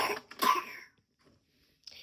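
A single harsh cough bursts out close to the microphone, followed by near silence and a faint breath at the end.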